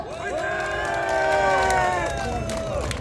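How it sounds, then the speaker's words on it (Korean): A crowd at an outdoor political rally near Seoul Station cheers and applauds loudly. Raised voices swell and hold over a bed of clapping for a few seconds. "박사님께 박수 한번 주세요"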